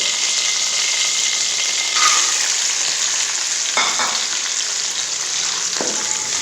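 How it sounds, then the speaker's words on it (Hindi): Almonds roast in hot ghee with a loud, constant frying hiss, broken by a few brief clinks and scrapes of a spoon against the pan; no one speaks. "घी को हम गर्म कर लेंगे और इसमें अपने डालेंगे बादाम जो हमने बनाए"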